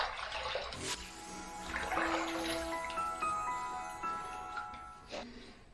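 Hot water is poured out of the container holding a shave soap puck, a short, faint splash and trickle with small clinks and taps around it.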